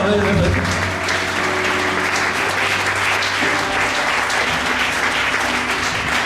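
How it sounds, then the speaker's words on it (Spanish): A church congregation at a Christian service applauds strongly and continuously, with voices and cheering mixed into the steady clapping the whole time. "Dale un fuerte aplauso."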